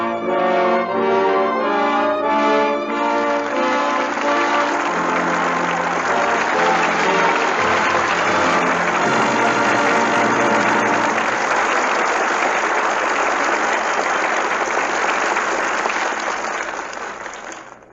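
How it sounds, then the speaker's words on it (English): Loud, sustained audience applause fills the theatre at the end of a radio play performance, dense clapping that swells and holds before fading out at the close. "With that well-deserved applause"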